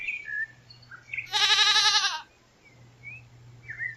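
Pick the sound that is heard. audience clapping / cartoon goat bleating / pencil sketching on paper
cartoon goat bleating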